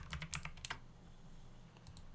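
Quick, light keystrokes clatter on a computer keyboard in short bursts with brief pauses, close and fairly quiet against a low background hum.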